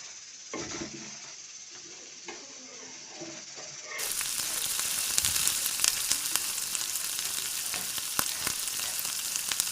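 Dosa batter roasting in ghee on a hot pan, a quiet crackle at first that jumps into a loud, steady sizzle with scattered pops for the rest of the stretch.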